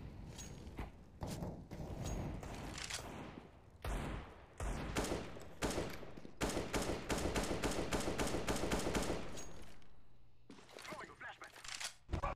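Rapid bursts of automatic gunfire in the Counter-Strike video game, with dense volleys of shots throughout and voices talking over the fighting.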